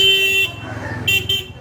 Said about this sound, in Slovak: Toto trúbenie hlasné, to mi bude dnes dlho na nervy